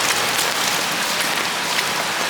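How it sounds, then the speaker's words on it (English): Steady heavy monsoon rain pours down in Manila during flooding, a dense, constant hiss of drops hitting surfaces with no letup. "it's just raining non-stop."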